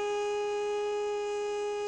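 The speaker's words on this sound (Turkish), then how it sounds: "her 10 Kasım sabahı saat 9:05 geçe çığlık çığlığa çalan sirenlerle birlikte" A civil defense siren sounds a steady, sustained wail on 10 November at 9:05 in Turkey for a remembrance, one unbroken tone held at even loudness with no talk.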